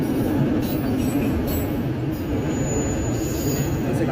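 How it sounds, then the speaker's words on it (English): A Norfolk Southern freight train hauling auto rack cars rolls past at close range in Bellefontaine, Ohio, a loud continuous rumble of wheels on rails with faint squeals throughout. "Here's one of the Norfolk Southern auto racks."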